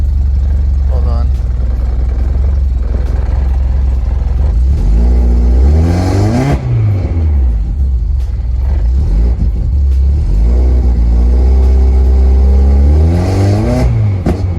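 A K-swapped car engine in limp mode idles low, then revs up twice in rising sweeps before dropping back. The revving is loud and close, and voices talk over it.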